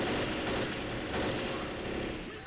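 Rapid automatic gunfire in the Left 4 Dead video game, a dense continuous burst of loud shots lasting a couple of seconds, fading slightly at the end.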